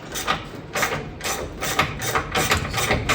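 A ratchet works at a jammed bolt inside the frame channel of a Dodge D100 truck, making a loud, close series of rhythmic clicking and grinding strokes repeated several times in quick succession.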